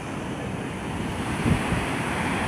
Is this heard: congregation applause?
no